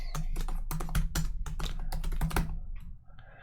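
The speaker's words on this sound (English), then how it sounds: "my keyboard is clearly very defective, otherwise I would type perfectly" Fast typing on a computer keyboard, a dense run of sharp clacking keystrokes close up for about two and a half seconds that thins out near the end, with no talk.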